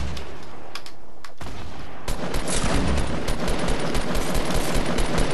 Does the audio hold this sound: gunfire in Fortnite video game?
yes